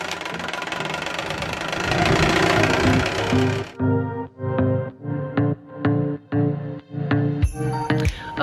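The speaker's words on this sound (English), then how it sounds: "I got that all leaf blowed" A gas leaf blower clears debris from an outdoor grill area. It roars loud and steady at close range, then cuts in and out in a series of rhythmic, throbbing engine bursts.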